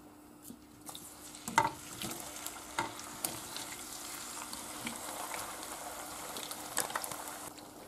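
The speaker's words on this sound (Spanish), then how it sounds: "Ya se ha calentado y ahora echamos las patatas para que se vayan haciendo." Sliced potatoes frying in hot oil in a pan for a country-style Spanish tortilla, giving a steady close sizzle and bubbling with a few clinks and stirring knocks, no talking.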